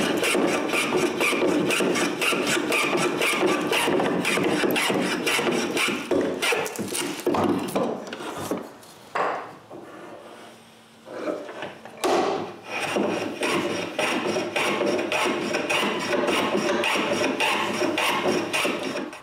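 Corners of wooden blocks being rounded over with a rapid, rasping power tool that buzzes loudly and steadily, pausing briefly midway for some quieter handling before the abrasive grinding resumes.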